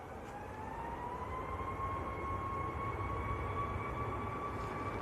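A two-year-old Ryanair Boeing 737 MAX heading to Berlin at Manchester Airport produces a steady jet whine with a rising tonal note over a broad rumble, held at a moderate distance without fading.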